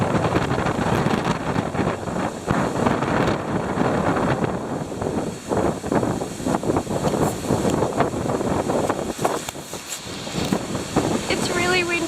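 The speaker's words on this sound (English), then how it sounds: "It's really windy and we got no sleep because of the noise of the wind." Strong wind buffets the microphone in a continuous loud roar, with gusts rising and falling throughout and no pauses.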